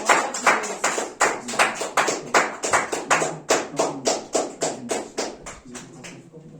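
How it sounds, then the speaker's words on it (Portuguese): A church congregation at a prayer service claps together in a steady, rhythmic beat of sharp hand claps, loud and close at first, then gradually thinning and fading toward the end. "Aplauda de novo, Senhor Jesus."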